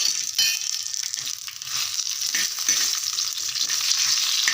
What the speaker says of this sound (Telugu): ఇలా బాగా కలుపుకుంటూ బాగా ఫ్రై చేసేసుకొని సిమ్లోనే పెట్టుకోవాలి అండి